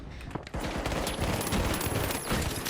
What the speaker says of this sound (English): This 93R pistol, as you saw right there, is the new weapon for light, and it absolutely melts up close.